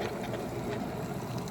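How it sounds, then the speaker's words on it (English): A steady, bubbling rumble of water at a rolling boil, continuous and close by with no breaks. "You can hear it boiling."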